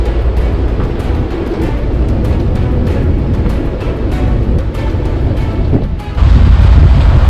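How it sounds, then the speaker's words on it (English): Strong wind roars at sea, 50+ knot gusts buffeting a sailboat off Vanuatu with surf noise beneath; a loud, continuous rush that swells even louder near the end. "But the wind was wrapping around and still blowing full force."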